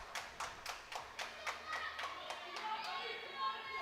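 Israeli crowd at a junior powerlifting championship clapping in a steady rhythm for a lifter's last attempt, fairly distant and soft, then breaking into looser scattered applause and chatter.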